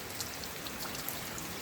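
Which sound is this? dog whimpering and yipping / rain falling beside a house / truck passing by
rain falling beside a house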